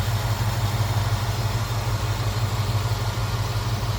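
A 1966 Ford Mustang convertible idles smoothly and steadily, its deep, even exhaust note pulsing close by with no talking.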